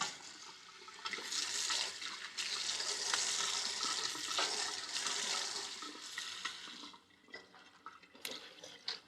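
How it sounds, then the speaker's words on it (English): Cold water splashes and pours over cooked Greek horta greens in a kitchen, a rushing, hissing stream that runs steadily for several seconds, then tapers into a few short splashes. "I want to cool those greens down just by splashing some cold water on them."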